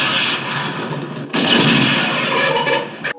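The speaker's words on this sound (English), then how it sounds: "out of nowhere, gunshots start going off" Sudden burst of gunfire in a 1968 western film scene, a sharp loud onset followed by dense, echoing shots and rumble that continue steadily before cutting off abruptly.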